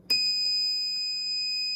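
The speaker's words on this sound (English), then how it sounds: "they can press this tag switch, which will make the buzzer go on and tells the nurse to come." A nurse call buzzer set off by a tag switch sounds one steady, piercing electronic tone that starts abruptly and holds loud and unbroken to the end.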